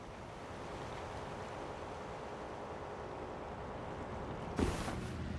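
Waterfall in Elden Ring, Shadow of the Erdtree, a steady broadband rushing roar of falling water, constant and moderately loud with one brief thump near the end and no speech.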